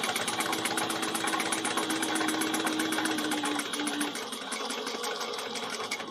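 A sewing machine stitches a Kandu bag seam a quarter inch from the edge, whirring continuously and close up with a rapid mechanical rattle and a steady motor tone that softens slightly near the end.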